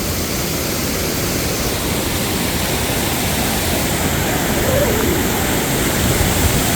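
A waterfall on a river roars in a loud, steady rush that stays constant throughout and sits close by, with no other sound rising above it.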